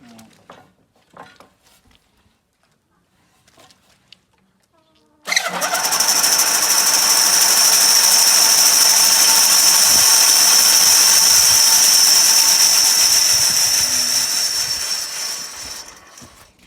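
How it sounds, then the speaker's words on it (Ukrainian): Quiet scraping and a few knocks, then the motor of a homemade band sawmill suddenly starts and runs loudly with a steady high whine for about ten seconds before winding down. "Зробив із цього мотора. Оце таку пілораму маленьку."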